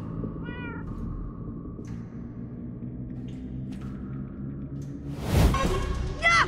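A few short meows sound in a quiet Minecraft: Story Mode scene over a low hum, followed by a loud whooshing rumble near the end.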